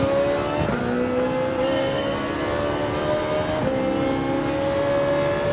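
Ferrari 458 Italia GT3 race car in Gran Turismo 7 accelerating hard, a steady loud engine whine climbing in pitch with two quick paddle upshifts that drop the tone before it rises again, no voices.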